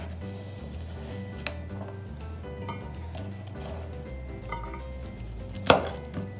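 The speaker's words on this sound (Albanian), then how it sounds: "Do të bëjmë prerjen e karrotës në formë rrethore, jo shumë të mëdha, as shumë të vogla" A knife chops carrots into medium rounds on a board, giving a rapid series of close, crisp taps with a few louder knocks, and nobody speaks.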